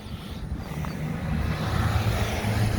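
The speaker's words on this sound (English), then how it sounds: "I apologize for the road noise, guys. We are right off the highway." Steady road traffic from a highway right beside a campsite, a low continuous rumble of passing vehicles that swells slightly, moderately loud and without speech.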